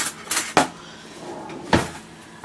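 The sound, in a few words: opening a kitchen drawer to get a butter knife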